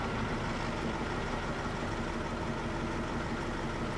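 A dump truck engine idling after start-up, a steady dense low rumble with broadband mechanical noise, close and constant with no change in pace.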